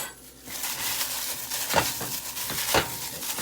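Chicken wings are tossed with kosher salt and black pepper in a bowl, giving soft, close rustling and scraping with a few sharper clinks, faint and steady.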